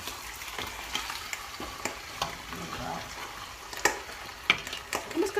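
Beef browning in a pot for Mexican caldo de res sizzles steadily, with occasional louder crackles and stirring scrapes toward the end, no talking.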